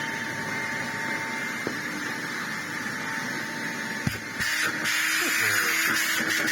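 A Hoover Hooverette 2944b vacuum cleaner running with a steady, loud whine and hum, joined by a few clicks and a slightly louder, rougher tone near the end.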